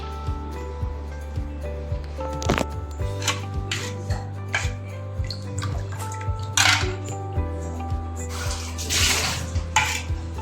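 Homemade orange squash is stirred into a glass with a spoon, giving a steady series of clinks against the glass over a low steady hum, with a louder clatter partway through and liquid swishing near the end.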